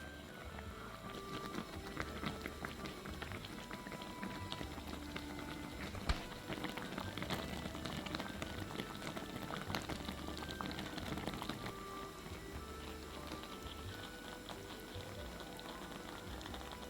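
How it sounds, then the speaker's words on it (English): Eggs and scallions simmer in a thickening spicy Korean rice cake sauce with fish cake, a steady close bubbling and patter running throughout with no talking. "Boil the eggs and scallions. And continue to cook for another 3 minutes until the sauce is thickened."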